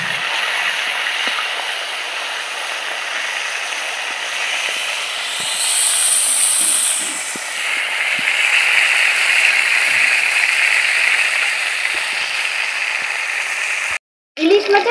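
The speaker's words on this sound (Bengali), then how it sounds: "এখন আমি ইলিশ মাছের মাথাগুলো ভেজে নিচ্ছি।" Hilsa fish heads frying in hot oil in a wok, a loud steady hiss of sizzling close up, rising briefly in the middle and cutting off abruptly near the end.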